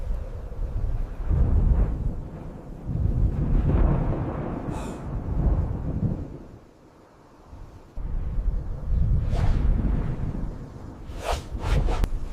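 Deep rolling thunder from a storm sound effect rumbles in long, heavy waves with a brief lull midway. Sharper crackling bursts come near the end, loud and close, with no talking.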